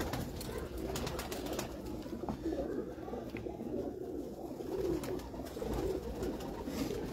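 Pigeons coo steadily on a rooftop in Mianwali, a continuous low murmur of overlapping calls against faint outdoor background noise, with no talking.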